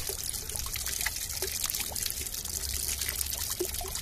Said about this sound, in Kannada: ಇದನ್ನೆಲ್ಲ ನೀರಲ್ಲಿ ಚೆನ್ನಾಗಿ ವಾಶ್ ಮಾಡ್ಕೋಬೇಕು.